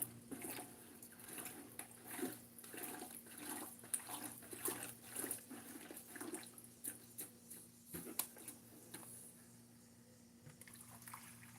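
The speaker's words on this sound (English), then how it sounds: "get this slurry to pour out of this bucket here" Gold-prospecting slurry of paydirt from a private claim in the Black Hills pours and trickles out of a bucket, a steady wet splashing with uneven surges, fairly faint over a low steady hum.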